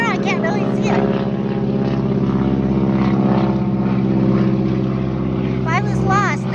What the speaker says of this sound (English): Something going over top. Oh, there it goes. Must be a helicopter. Oh no, it's a plane.